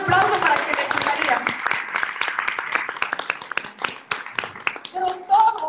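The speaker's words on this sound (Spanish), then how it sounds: "Un aplauso para que le gustaría." Live audience at a Spanish-language motivational talk breaks into scattered clapping that runs steadily through the moment, with sharp individual claps over a busy crowd.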